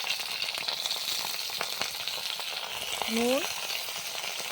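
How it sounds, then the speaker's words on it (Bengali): Chopped taro leaves drop into hot oil in a pan and sizzle with a steady, crackling hiss, close and fairly loud, with a brief voice over it and a short tonal squeak near the end. "এখন তেল গরম হয়ে গেছে, কচু শাকগুলো দিয়ে দিলাম।"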